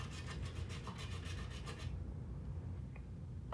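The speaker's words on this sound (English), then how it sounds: "the really fast way is with a cheese grater and just go like that" Chalk scraped against a cheese grater in quick repeated rasping strokes for about two seconds, close and fairly loud, then stopping into a quiet room.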